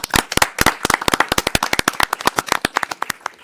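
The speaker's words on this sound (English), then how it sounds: "Let's give her a round of applause." Clapping at a city council meeting, sharp distinct claps in a quick irregular rhythm, close and loud, sounding like a small group or a few people rather than a large crowd.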